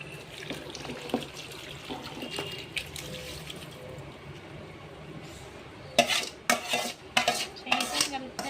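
Mango pickle pieces being mixed by hand with oil and spice mixture for Telangana avakaya, with soft, wet mixing sounds and then several louder clattering bursts against a dish toward the end.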